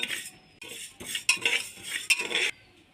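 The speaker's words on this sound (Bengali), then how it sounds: "এবার মুগ ডালটা একটু ভেজে নেব" Moong dal being dry-fried in a pressure cooker, heard as bursts of scraping and clinking from a utensil stirring against the metal pot, with a few sharper knocks and brief pauses between strokes.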